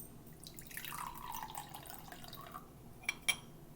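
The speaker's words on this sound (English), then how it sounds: "We will pour the kombucha into a juice glass" Kombucha pours into a juice glass with a rising, gurgling fill, followed by a couple of light glassy clinks; quiet and close.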